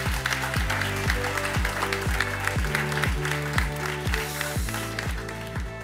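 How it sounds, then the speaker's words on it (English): An in-person audience on the 51st floor of the Capita Spring Building in Singapore applauds itself, steady clapping from a large room over a loud, regular thumping beat that pulses evenly throughout. "Please give yourself a round of applause."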